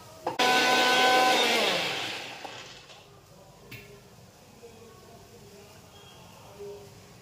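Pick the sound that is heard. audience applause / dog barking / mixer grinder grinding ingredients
mixer grinder grinding ingredients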